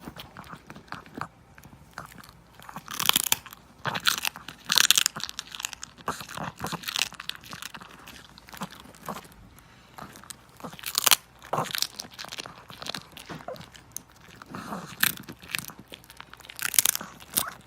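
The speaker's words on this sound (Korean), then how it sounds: "실제로 대구 껍질 말린 건 영양소도 풍부하지만 또 살이 덜 찔 수 있으니까 씹어먹는 재미도 있고 약간 크리스피 같은 느낌이더라고요." A dog crunches and chews a dried cod skin treat, with repeated crisp, irregular bites and tearing crackles close up against a quiet room.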